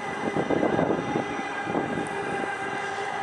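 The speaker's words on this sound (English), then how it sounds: "there goes one of the Type 5" A Siemens Type 5 MAX light rail train passing near a bridge at night, a low rumbling hum with humming electric tones that swell and fade, moderately loud and heard without talk.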